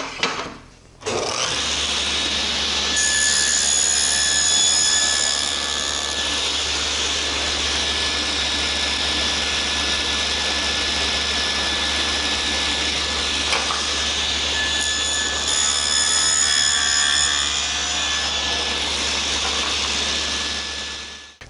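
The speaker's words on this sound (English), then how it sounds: "as the saw winds down, you can hear the teeth rubbing on the face of that auxiliary fence" A powered saw, likely a table saw with an auxiliary fence, roars steadily as it cuts a wooden drawer tenon, loud and close for about twenty seconds, then spins down with the blade rubbing faintly against the fence.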